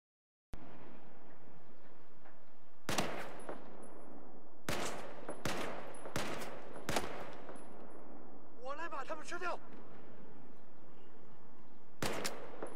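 Bursts of gunfire from the video game Battlefield 4, loud sharp shots spaced through the stretch, some in quick clusters, with a brief warbling electronic tone in between.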